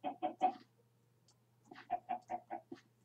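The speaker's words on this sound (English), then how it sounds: "Noisy chickens." Minecraft chickens clucking in two short clusters of rapid, close clucks with a brief quiet gap between them.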